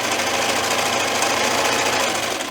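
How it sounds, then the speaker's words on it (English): A sewing machine runs a steady straight stitch along a folded fabric edge for a fabric corner bookmark, a continuous close, loud mechanical whir with no talking. "now I'm going to put it in my machine and I'm going to stitch along the fold that I just made"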